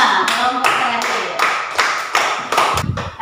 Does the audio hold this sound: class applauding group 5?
yes